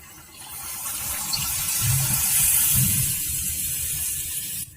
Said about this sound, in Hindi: अभी हम इसमें पानी ऐड करेंगे।